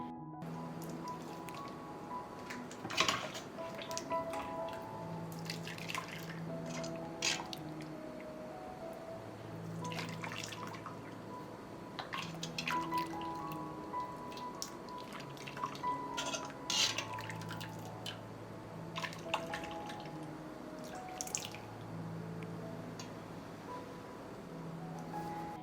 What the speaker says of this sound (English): I will separate the cheese from the whey.